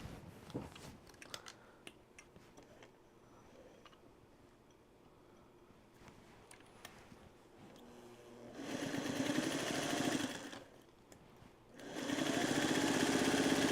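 A sewing machine stitches down binding on a Trellis Garden quilt in two loud runs, the first from about 8.5 to 10.5 seconds and the second from 12 seconds to the end, after quiet handling noise.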